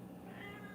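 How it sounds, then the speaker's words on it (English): A brief, near meow from a hungry cat, drawn out and slightly whiny, over a hum of background noise. "Hungry kitties."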